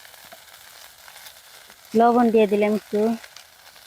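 Bitter gourd fries in a pan with spices, giving a faint, steady sizzle throughout while a voice speaks briefly over it.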